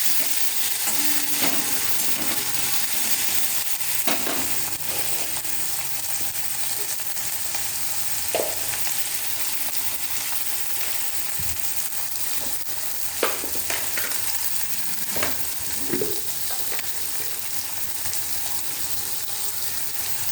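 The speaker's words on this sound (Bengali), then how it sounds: "এই যে ক্যাপসিকাম আর টমেটো দিয়ে দিলাম, এবার একটু ভেজে নেবো এগুলোকে।" Capsicum and tomato frying in a pan for a masoor dal dish, a steady soft sizzle with occasional stirring scrapes and clinks, close and alone.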